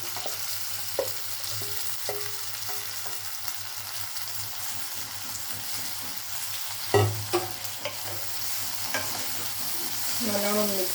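Chena (yam) pieces frying in a pan over a medium flame give a steady sizzle, broken by scraping stirs from a spatula. A louder clatter of stirring comes near the middle. No one speaks.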